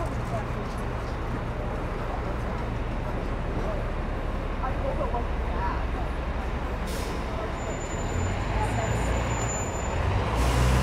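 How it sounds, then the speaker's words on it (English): Dense, steady city street traffic on Fifth Avenue in New York City, with engine rumble, a hiss like an air brake, and people talking nearby throughout. "Look at the traffic of Fifth Avenue."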